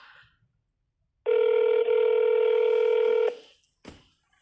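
A telephone plays a steady, loud electronic tone for about two seconds while a call to a district family court is being placed, followed by a short click and a faint burst of noise.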